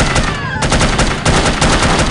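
Gunfire in the video game No One Lives Forever, set aboard an aircraft. Dense automatic bursts chatter loud and close across the whole stretch, with a brief dip before the firing resumes.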